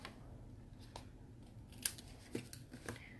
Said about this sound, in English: I'm going to snip this off so it doesn't overlap the edge of the card.